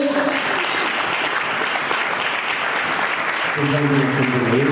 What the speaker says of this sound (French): Est-ce que nous pouvons acclamer pour la parole de Dieu?